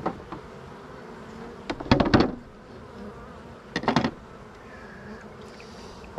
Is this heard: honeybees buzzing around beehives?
yes